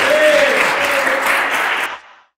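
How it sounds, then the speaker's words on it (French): A crowd bursts into steady, loud applause, dense clapping sustained for about two seconds before cutting off abruptly into silence, with a faint voice underneath. "on applaudit"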